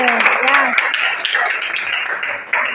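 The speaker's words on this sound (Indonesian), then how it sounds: "berikan tepuk tangan dulu untuk temannya" A classroom audience applauds a presenting group with a patter of quick, scattered claps close by, under and after a speaking voice.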